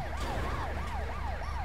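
Ambulance siren wailing in repeated rising and falling sweeps, loud and close, over a low rumble of engine and road noise, with no voices.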